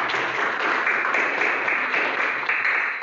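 A classroom full of students claps together, a dense, steady patter of hands sustained evenly for about three seconds without any voices.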